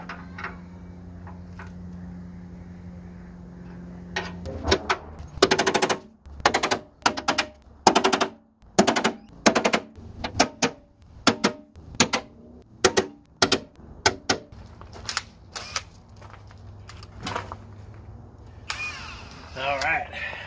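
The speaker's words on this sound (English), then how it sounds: "just gonna go blast all my circles with the center punch" Sharp metallic strikes of a center punch marking spot welds on the front unibody of a wrecked Jeep XJ Cherokee, a run of loud, evenly spaced impacts close by, with a faint hum between them.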